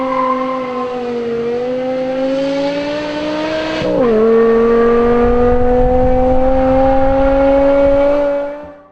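High-revving naturally aspirated engine of a four-door car, loud and close, holding a steady tone that climbs, dips sharply around midway as the revs shift, then rises again before cutting off at the end.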